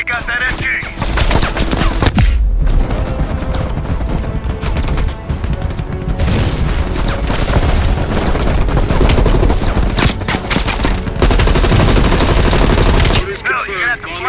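Machine gun fire in Call of Duty Black Ops Cold War: loud, sustained bursts of automatic gunfire and explosions crowd the clip almost continuously, with brief pauses and voices mixed in.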